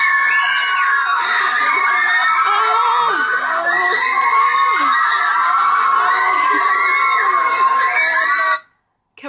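Fans of a band scream at a meet-up in the Bullring, Birmingham, a loud continuous high-pitched crowd shrieking and whooping that cuts off abruptly near the end.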